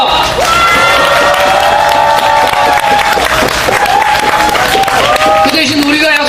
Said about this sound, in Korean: 여러분 동의하시면은 큰 박수 해주시기 바랍니다.